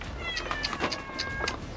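A cat meows repeatedly in a loft during a roof conversion, with several short, close, high-pitched cries in quick succession over a constant background hum.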